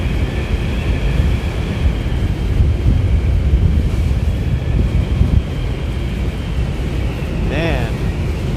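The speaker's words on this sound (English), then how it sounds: "this thing's getting blown away by the wind" Strong wind buffets the microphone aboard the Staten Island ferry in December, a steady loud roar with a brief whistling tone near the end.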